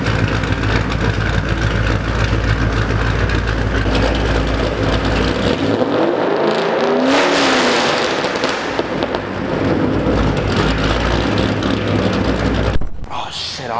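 A Ford Mustang GT V8 with a lopey cam revs loudly and close, choppy idle giving way to a rising rev and fall midway, crackling throughout, with talking over parts.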